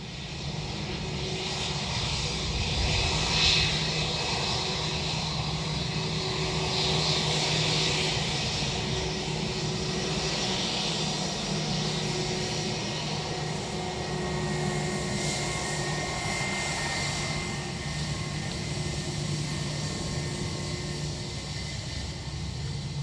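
A Netherlands Air Force C-130 turboprop landing at Dublin Airport, a steady loud engine roar that holds throughout with slight swells, no talking.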